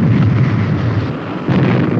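A test-run engine catches light with a loud, dense roaring rumble, close and continuous for two seconds with a brief dip and surge, no talk.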